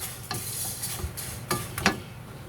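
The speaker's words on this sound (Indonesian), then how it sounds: "Saat diaduk sudah mulai keras-keras atau kemerisik seperti ini sudah matang" Crispy toasted kataifi pastry being stirred in a pan, dry rustling and scraping crackles with a few sharper utensil scrapes, close and fairly quiet, without talk.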